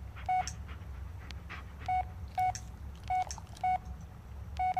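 Phone dialing tones in the Blair Witch video game: a run of short, identical electronic beeps pressed in an uneven rhythm over a low background hum, with no talking.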